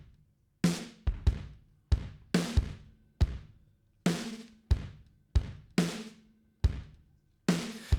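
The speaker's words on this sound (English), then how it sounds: "So the drums sound like this." Isolated drum kit stems from a band's song mix, crunchy and heavily compressed: punchy kick and snare hits in a loose, uneven pattern, each with a quick sharp decay, close and loud with no other instruments.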